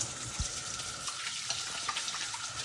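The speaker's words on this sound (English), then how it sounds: "Wash my hands now." Water runs from a tap as hands are washed at a sink during a barbecue competition, a steady close rush with a brief knock near the start.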